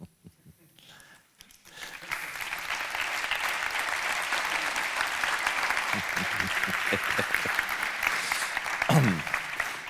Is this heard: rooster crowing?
no